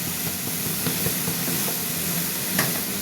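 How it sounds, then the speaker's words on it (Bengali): Cabbage dropped into a hot pan of spiced oil hisses in a constant loud sizzle, with a few faint clicks and one sharper crackle late on. "এবার আমি বাঁধাকপিটা দিয়ে দিলাম।"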